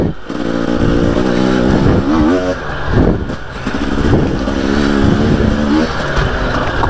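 A 2018 Husqvarna 250 enduro motorcycle engine revs up and down in rising, falling pulls, loud and close, with a rider talking over the engine.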